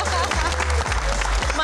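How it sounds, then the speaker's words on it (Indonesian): An audience applauds a guest's entrance at a televised Q&A show, with continuous clapping over loud music. "Boleh tepuk tangannya lebih meriah lagi."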